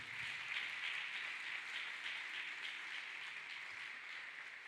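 Congregation clapping hands for Jesus Christ during a church service, a steady, fairly faint wash of many hands clapping together with no break, no voices on top.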